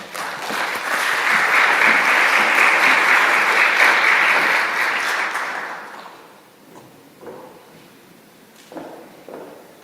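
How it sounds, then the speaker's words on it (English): A large summit audience at a UN-Water groundwater conference claps in a loud, dense round that swells and holds for about five seconds, then fades away into room quiet with a few scattered taps and footsteps. "Please give him a round of applause."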